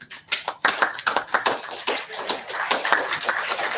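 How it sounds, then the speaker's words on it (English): A meeting audience at an IETF working-group session applauds: a burst of many overlapping hand claps, scattered at first and then dense and steady, at moderate distance. "I'm assuming that's applause for the slide art here."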